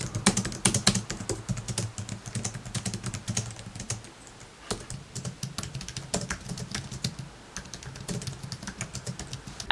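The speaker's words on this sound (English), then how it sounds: "I'll play a sample here of what each keyboard sounds like" Typing alternates between an Apple Magic Keyboard and a Logitech MX Keys, with quick, uneven bursts of light key clicks, close and fairly quiet, pausing briefly midway.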